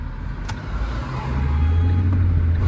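A Fiat Linea 1.6 Multijet diesel crawls through heavy Ankara traffic, its low engine drone rising steadily in loudness, with a brief sharp click near the start and surrounding road noise.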